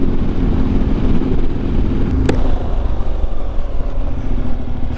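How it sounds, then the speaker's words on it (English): A motorcycle is ridden out toward wooded hills. Its engine drones loud and close under heavy wind rumble for the whole stretch, with one brief sharp click partway through and no talking. "hopping on the bike and going up to the hills"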